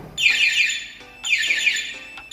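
A loud electronic motorcycle anti-theft alarm on a Honda Wave125i repeats in two long warbling bursts, each a bright sweeping tone, sounding close with no talk over it.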